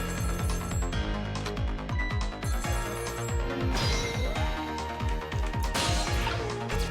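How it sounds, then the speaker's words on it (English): A telephone rings in the video game Ghost Trick: Phantom Detective, a steady repeating electronic ring over a busy musical game soundtrack, with no talking. "Phone is ringing."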